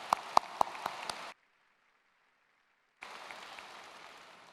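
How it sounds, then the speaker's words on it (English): An audience at a high school commencement ceremony claps, with a few sharp hand claps standing out. The sound cuts to silence for a couple of seconds, then softer, scattered applause resumes. "How about another round of applause for our band and chorale?"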